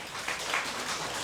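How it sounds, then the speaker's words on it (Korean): Church congregation clapping in a sanctuary during a Sunday afternoon service, a soft, steady patter of many hands heard from a distance with nobody speaking. "저쪽에 박수 한번 하시죠."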